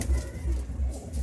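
A pair of white mattress pigeons gives soft, low coos in repeated pulses, close and fairly quiet, with no voices.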